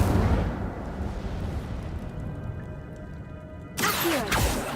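A fire spell cast with a wand in a wizard video game: a loud, rumbling burst at the start that trails into a fading roar, then a second sharp whooshing flare near the end.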